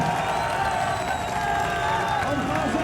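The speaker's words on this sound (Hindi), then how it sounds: "जरा हाथ उठाकर तालियों की गूंज में बताइए इमरान खान साहब कितना प्यार है" A large crowd at an Imran Khan rally claps and cheers in a steady, dense roar, with shouts and whoops mixed in, loud and unbroken from start to end.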